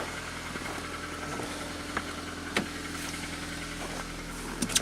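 A Pontiac Aztek engine idles steadily just after a hard start, a low, even rumble at moderate distance with a few faint clicks and knocks on top and no talking.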